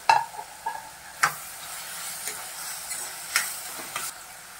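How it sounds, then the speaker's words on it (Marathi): Green chillies and curry leaves fry in a pan of onion and tomato for Bombay duck masala, a soft continuous sizzle broken by sharp clicks of a spoon stirring against the pan. "आता मी ओली मिरची आणि हा कढीपत्ता पण घालून घेत आहे"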